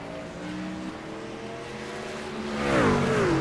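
A race car's tires squealing and smoking during a sim racing esports event at Homestead, a rising high-pitched screech over the steady engine drone of passing cars, loudest near the end.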